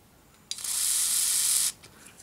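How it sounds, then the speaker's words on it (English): A single hissing burst of alcohol cleaner sprayed onto the base of a Zalman CNPS-10x Flex CPU cooler, lasting about a second, close and moderately loud in an otherwise quiet room. "So you're spraying just a little bit of the alcohol cleaner on the base."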